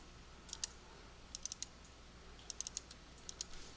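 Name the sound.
computer mouse clicking in LP360 software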